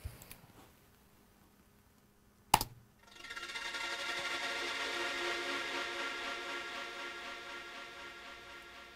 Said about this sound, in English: I made this little synth embellishment